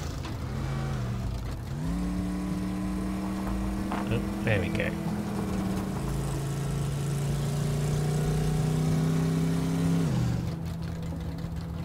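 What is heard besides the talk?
car engine revving in the Teardown video game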